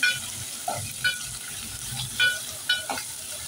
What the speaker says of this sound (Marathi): आता त्यामध्ये घालूया आपण कांदे, छान परतवून घेऊया